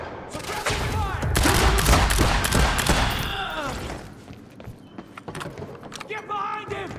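Gunfire rips through a Quantum Break firefight as loud, rapid bursts of shots with mechanical clatter. Fighters shout orders during the shooting, and the firing thins out near the end.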